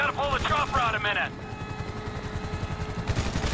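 Steady chopping rotor drone of a helicopter in Grand Theft Auto V runs throughout, with rapid gunfire-like bursts and a voice talking over the first second.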